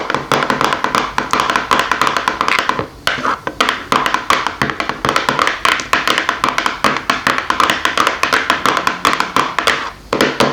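Nail rings tapping across an assortment of lighters, a dense, close, rapid clatter of light taps that runs almost without pause, with two brief gaps, and no talking.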